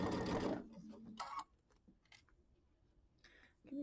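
Sewing machine stitching a quarter-inch seam on a Kimberbell mini quilt, a loud stitching burst at first, then quieter scattered clicks and handling sounds.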